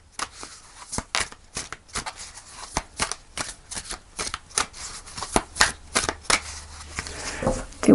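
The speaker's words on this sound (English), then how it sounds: "Do one more shuffle." Rapid riffling and slapping of tarot cards being shuffled, a quick run of crisp bursts, close by and with no talking.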